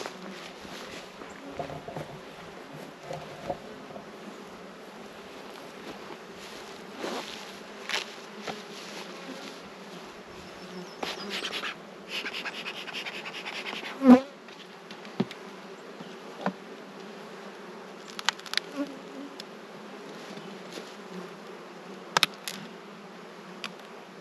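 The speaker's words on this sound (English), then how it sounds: "Alright, I got some really curious bees" Honeybees buzz steadily around a pallet of hives during feeding, a continuous close insect drone with individual bees flying past the microphone and occasional soft knocks of handling.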